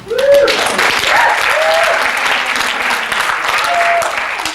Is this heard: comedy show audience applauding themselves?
yes